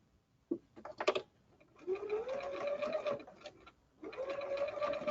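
A sewing machine stitching a men's ballet shirt, back-stitching at a seam end: a short stuttering start, then two sustained whirring runs separated by a brief stop, close and clear, with no voices.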